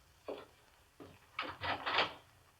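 A radio-drama door effect: a few separate wooden knocks and clunks, then a louder rattling open-and-close sequence, close and dry with no voices.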